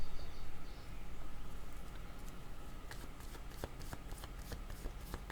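Tarot cards are shuffled by hand in a quick, close, steady riffle, with crisp rapid clicks of the cards growing sharper and more frequent toward the end, and no talking.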